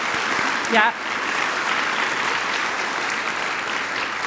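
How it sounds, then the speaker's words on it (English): Loud, steady applause from a conference audience honoring award winners, sustained throughout with a brief spoken word near the start. "let's all give them a round of applause"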